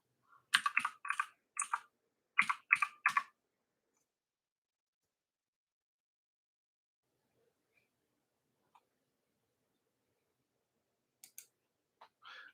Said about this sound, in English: Let me type warm-up.